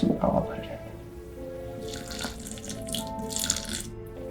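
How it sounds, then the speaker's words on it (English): Water trickles and splashes as it is poured into a terrarium, starting partway through, after a brief burst of voice. "we can add a little bit of water right now"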